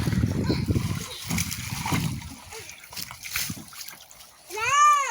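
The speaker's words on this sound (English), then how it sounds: "Let me just top up the rest of the horse's water a minute" Water splashes and sloshes as a horse's water container is topped up, irregular pouring bursts with people talking nearby and a brief whistle-like squeak at the end.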